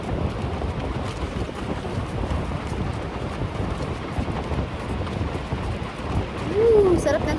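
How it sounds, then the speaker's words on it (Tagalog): Strong wind gusts on a beach and roar continuously against the microphone, with heavy low rumbling throughout. A voice briefly sounds near the end. "Sarap ng hangin. Lakas ng hangin."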